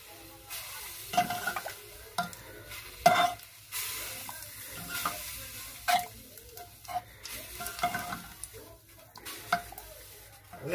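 A spoon scrapes and stirs a lentil and sugar puran mixture in a pan, in irregular bursts of scraping and clinking with soft sizzling between strokes.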